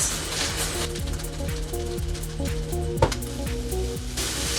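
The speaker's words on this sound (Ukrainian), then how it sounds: "Все ретельно перемішую." Pilaf with spices being stirred in a pot, a continuous hissing sizzle with repeated scraping strokes and a sharp clank near the middle, close and fairly loud, with no voices.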